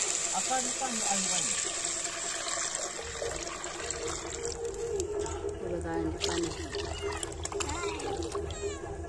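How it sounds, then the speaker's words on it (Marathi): Water-based stock poured into chicken curry cooking over a wood-fired stove, a steady gushing, splashing pour that runs under continuous talk throughout. "आळणी पाणी ओतूया"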